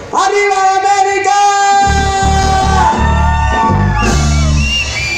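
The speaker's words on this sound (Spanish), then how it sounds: "Ahora vamos a gritar bien fuerte." A live concert crowd at an Andean music show shouts loudly together, a sustained massed yell following a single amplified voice, with rhythmic chanting bursts near and loud.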